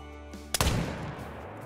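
A single sharp muzzleloader blast from a mule deer hunt in the video game Call of the Wild, loud and close, with a rolling echo that trails off over the following second.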